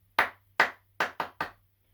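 A short drum fill from a song, played on snare and high tom: five sharp, close hits in an uneven rhythm, the last three quicker, alone without talking.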